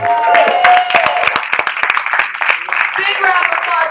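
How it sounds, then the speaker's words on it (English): An audience at a keto goal-setting seminar claps for a speaker taking the stage. The sharp, scattered claps are loud and close, with a voice speaking over the applause. "Big round of applause, folks"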